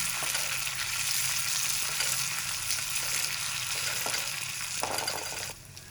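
Cumin and curry leaves frying in oil give a steady, dense sizzle that holds for several seconds before quieting near the end.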